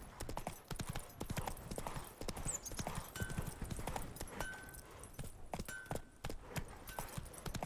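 Roach the horse galloping in The Witcher 3, a steady rapid clip-clop of hooves running continuously, close and prominent throughout with no talk over it.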